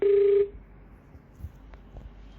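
A short, loud steady phone tone sounds as a mobile call is placed, then cuts to quiet line hiss with faint clicks.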